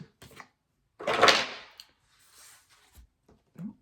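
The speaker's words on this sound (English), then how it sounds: "I knocked over some crystals." Crystals knocked over indoors: a sharp clattering knock with a brief rattle, followed by a few faint, scattered taps and small bumps in otherwise quiet surroundings.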